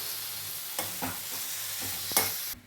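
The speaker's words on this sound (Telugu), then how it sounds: "తర్వాత అవి కూడా కొద్దిగా మెత్తగా పడే వరకు కలపాలి." Tomatoes for tomato chutney are stirred in a pan, giving a few soft scraping strokes and a sharper clink near the end over a low, steady sizzle, close by and fairly quiet.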